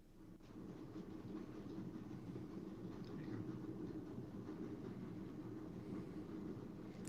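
A subway train passes nearby, its low rumble and rhythmic wheel clatter holding steady for several seconds, faint and muffled as if heard from inside a building across the street.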